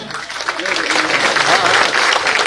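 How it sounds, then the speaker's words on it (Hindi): Loud, steady applause from a crowd at a village public rally in Khubru, Gannaur, with some voices mixed in throughout. "एक बार जोरदार तालियां हो जाएं"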